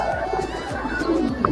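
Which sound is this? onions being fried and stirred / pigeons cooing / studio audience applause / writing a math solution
pigeons cooing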